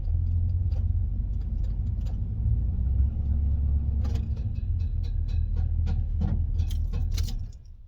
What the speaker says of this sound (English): Let's see if the high idle works.